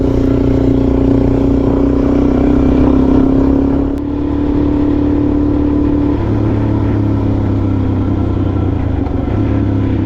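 A Suzuki DRZ400 motorcycle rides steadily on a wild trail near Sundown National Park. Its engine drones loud and close, with one brief dip in the middle, and no one talks.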